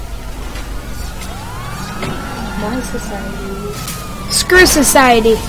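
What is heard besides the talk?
police siren in video game GTA V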